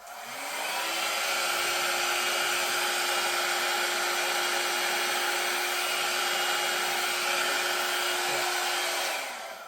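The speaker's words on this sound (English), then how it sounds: "I am going to blow this corner out though, because there's a little bit too much paint on it." A hair-dryer-style blower pushes air steadily at a corner of an acrylic fluid-art pour on canvas, knocking off surplus paint; one loud, unbroken whoosh with a steady hum runs nearly ten seconds, starting and stopping cleanly, with no talking.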